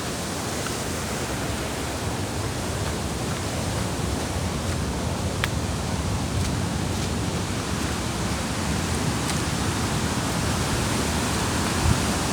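Aira Force waterfall in the Lake District, England, roars as a dense, constant rush of falling water, close and loud, with no voices.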